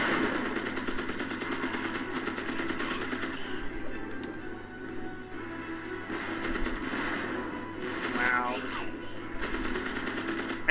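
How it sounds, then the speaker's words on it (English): A machine gun fires in the video game Magicka as dense rapid bursts of gunfire over a busy battle soundscape and steady game noise. "I still can't get over the whole concept of a machine gun."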